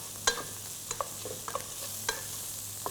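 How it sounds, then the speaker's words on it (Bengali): Diced carrots frying for prawn fried rice give a steady soft hiss, with a few sharp spoon clicks and scrapes as they are stirred. "নাইসলি ফ্রাই করছি আমরা।"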